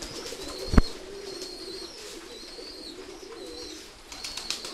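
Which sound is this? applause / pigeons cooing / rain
pigeons cooing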